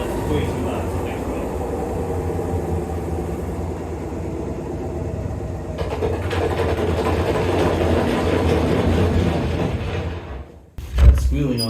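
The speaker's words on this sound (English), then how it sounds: "these gears have become really loud" A machine with worn, overly loud gears runs after start-up with a steady whining, squealing grind. It grows louder partway through, then cuts out abruptly and is followed by a brief thump.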